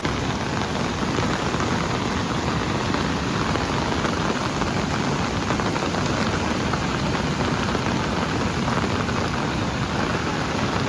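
Steady, heavy rain pours down without a break at a flooded river in May, a dense even hiss of drops on surfaces filling the whole stretch, with no voices.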